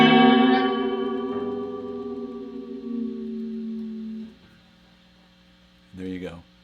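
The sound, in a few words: guitar chord played with delay echo effect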